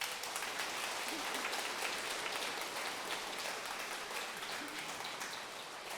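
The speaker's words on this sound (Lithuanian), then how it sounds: "Spręsime pagal jūsų aplodismentus." Concert audience at a romance-song ensemble's 25th anniversary show breaks into steady applause, a dense, even patter of many hands clapping for several seconds, moderately distant and unbroken.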